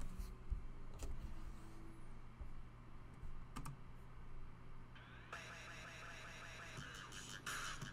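Soft keyboard typing at a computer desk, a few light scattered key clicks at first, then a denser run of quick taps near the end, faint against a steady low room hum.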